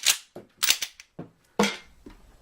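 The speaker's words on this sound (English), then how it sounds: "it's semi-auto because I have to pull the trigger every time I want to shoot it" Semi-automatic pistol fired shot by shot, several sharp loud cracks at uneven spacing with short decaying tails, close by and without talking.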